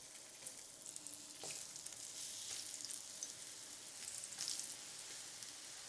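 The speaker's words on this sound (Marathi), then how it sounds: "तव्यामध्ये मावतील एवढे काप तळायला सोडले" Soft, steady sizzle of elephant foot yam slices frying in hot oil on a tava, fairly quiet, with a few brief crackling bursts.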